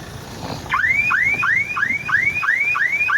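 A car alarm blares nearby, repeating a rising electronic chirp in a fast, steady rhythm, triggered when the door of the running car is opened.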